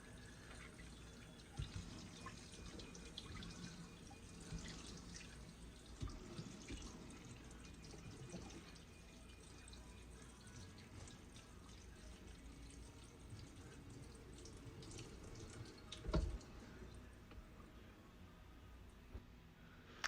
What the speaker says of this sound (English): Now I'm gonna rinse it with cold water.